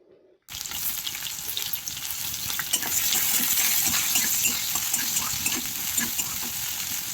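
Mustard seeds, dried chili and garlic hit hot oil with a sudden onset, then crackle and sizzle continuously with scattered pops, close and fairly loud throughout.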